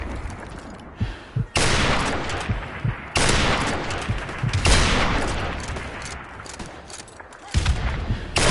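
Video game gunfire blasts in long, dense bursts of automatic shots that cut in and out with abrupt pauses, loud and close throughout.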